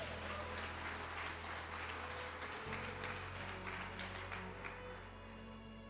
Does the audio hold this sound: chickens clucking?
no